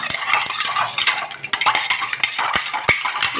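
A spoon stirs lemon juice, clinking repeatedly against the glass in quick, irregular taps and scrapes, close and clear with no talk.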